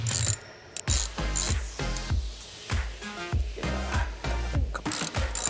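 Bolts on the high steer arm of a Suzuki Samurai front differential being tightened with a ratchet, a steady series of close, sharp clicking strokes in quick rhythm with brief pauses between bursts.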